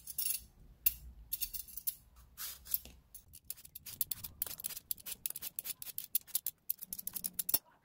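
A peeler scrapes the skin off a Korean melon in quick, close, crisp strokes, a dense run of short scratchy rasps with brief pauses.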